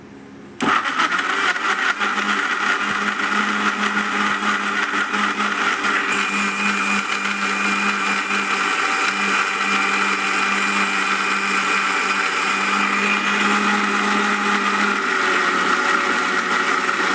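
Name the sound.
blender grinding tomato chutney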